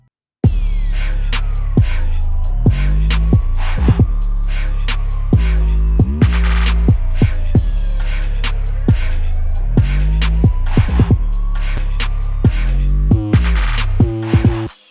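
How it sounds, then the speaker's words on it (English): Deep 808 bass notes slide smoothly between pitches with a one-second glide, set in Studio One, playing in a steady looping pattern with sharp percussive hits layered on top, loud and continuous with no talking. "So now the 808 should sound like this."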